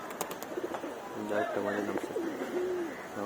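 Pigeons at a loft give soft, rolling coos, a few calls overlapping at moderate distance against a low background hum.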